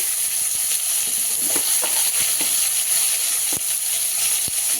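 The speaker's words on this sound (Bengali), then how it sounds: "এবার এটাকে আমি নাড়াচাড়া দিয়ে ঢেকে রাখবো" A tomato mixture with salt and turmeric stirred in a pan: a steady sizzle carries sharp spoon scrapes and knocks against the metal at irregular intervals, close-up and fairly loud, with no one talking.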